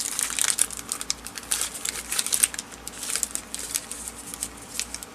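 A crinkly seed packet of Drosera capensis is handled and picked at, giving continuous close crackling and rustling with small sharp crinkles throughout, no voices.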